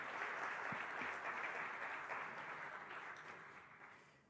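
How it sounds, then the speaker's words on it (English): An audience at a launch event gives a round of applause for the mayor, a sustained wash of clapping that gradually fades toward the end, fairly quiet. "Another round of applause for the mayor,"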